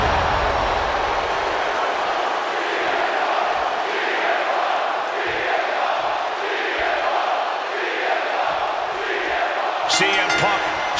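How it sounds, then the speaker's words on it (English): A large arena crowd in the WWE 2K26 wrestling video game roars steadily in Chicago, a dense sustained cheer that fills the whole stretch, with commentary voices over it. "And just listen to this crowd here in Chicago."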